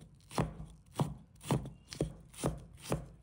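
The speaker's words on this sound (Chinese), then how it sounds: "再准备适量的洋葱，把它切成小粒" A knife chops onion into small pieces on a board for a prawn dish, six sharp, evenly spaced strikes about half a second apart, close and clear with no voices.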